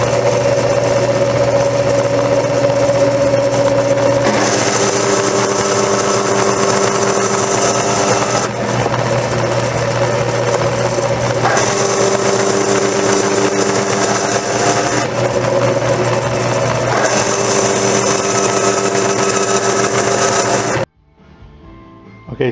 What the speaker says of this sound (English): need to cut a bunch of little Teflon discs. And I'm using a bandsaw.